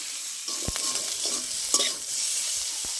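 Malabar spinach stir-fries with spices, salt and a little sugar in a pan, with a soft steady sizzle and several distinct scraping strokes of a spatula against the metal.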